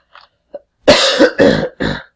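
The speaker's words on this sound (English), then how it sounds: "which is why I'm coughing so much" A couple of faint throat sounds give way to three loud, close coughs in quick succession.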